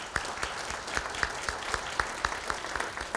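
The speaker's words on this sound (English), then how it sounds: "Round of applause for the counselors." Applause for school counselors at a high school top scholars celebration comes through as fairly faint, evenly spaced claps in a steady rhythm, with no talking.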